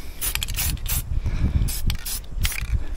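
A spray gun sputters and spits in short irregular bursts with mechanical clicking, close and fairly loud, during spray painting in a repair shop.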